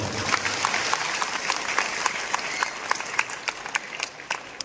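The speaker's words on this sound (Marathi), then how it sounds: "तर पुन्हा एकदा टाळ्या वाजवून" Crowd applause welcoming guests at a religious satsang welcome ceremony in Umred, a dense sustained clapping from many people with some sharper individual claps standing out near the end.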